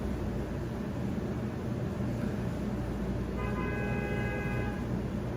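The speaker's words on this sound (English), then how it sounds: "You can hear the horn, somebody outside upset." Under a steady hiss of background noise, a car horn honks in a few quick repeated toots near the end, somewhat distant.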